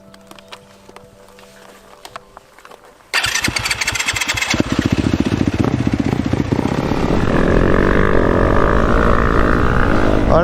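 Motocross motorcycle ridden over a jump, its engine bursting loud after a quiet start, then revving hard and steady close by with rising pitch as the bike accelerates.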